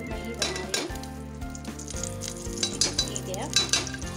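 Two tablespoons of ghee heat in a pressure cooker for chickpea biryani, giving a continuous close sizzle and frying hiss, with light clinks of a metal utensil against the pot throughout.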